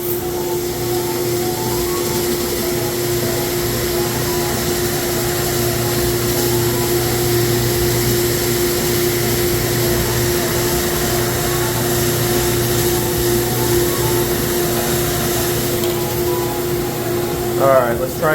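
A carpet cleaning machine runs steadily during deep carpet cleaning in a home in Howland, Ohio, giving a loud, constant motor drone with a vibrating hum throughout and a brief rise near the end.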